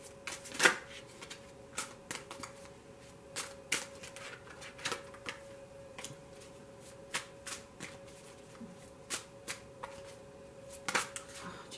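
Tarot cards being shuffled by hand: faint, crisp riffles and soft slaps repeat in short bursts throughout a quiet room.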